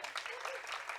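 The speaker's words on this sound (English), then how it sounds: "So a big round of applause for Dr." Audience applause after a talk at a formal session, a brief, soft, even patter of clapping heard at a distance.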